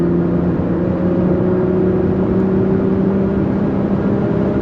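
Straight-piped Audi 3.0 TDI diesel engine droning loud and steady on a race track, a deep tonal rumble held at constant revs without voices.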